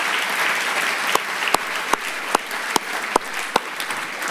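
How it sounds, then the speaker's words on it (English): Applause from an audience at a lecture event, a steady wash of many hands clapping with a few sharper individual claps standing out at regular intervals, moderately near and with no voices over it. "Valerie, Edward, Andrew, I think you should stand up and take a round of applause"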